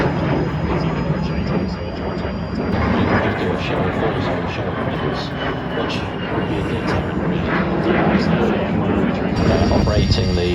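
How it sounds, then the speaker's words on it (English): A Lockheed C-130J Hercules military transport landing at an air show, its turboprop engines giving a loud, steady roar with broad rumbling noise throughout, while an announcer talks over the top. "whilst the Charlie 130 lands"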